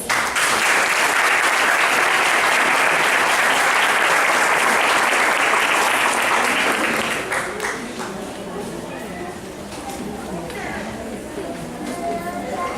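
Loud, full audience applause welcoming an elementary school children's chorus at a spring concert, steady for about seven seconds before thinning into scattered claps and crowd murmur.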